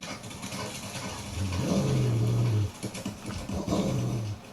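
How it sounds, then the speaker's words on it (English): Low, rumbling growls from a pack of dogs in a music track swell and fade in two long bursts over a steady dark background hum. "And of course, you hear the pack of dogs."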